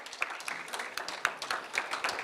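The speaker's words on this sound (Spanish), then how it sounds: "Vamos a darle un fuerte aplauso" Applause from the audience at an emotional-themed talk event, a scattered mid-level patter of hands with a few sharper claps, fairly close and continuous over a short stretch.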